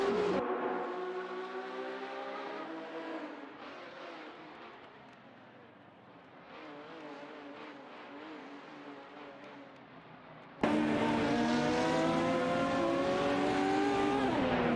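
A Lola 70 and a Porsche 917 racing in a video game, their engines roaring and revving with rising and falling pitch, continuous and close, swelling suddenly louder near the end.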